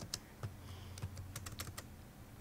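Someone types on a computer keyboard, making quiet, irregular clicks and taps in short bursts.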